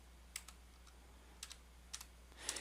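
Keystrokes on a computer keyboard while configuring switch settings in Packet Tracer, arriving as short clustered bursts of a few clicks with pauses between, close and fairly crisp over a steady low hum.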